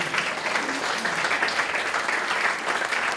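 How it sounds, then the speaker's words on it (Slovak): Dense, steady applause from a talk-show audience for guests from Kežmarok, a continuous wash of close clapping that fills the whole moment with no voices on top. "tak zatleskáme veľkým Kežmarčanom"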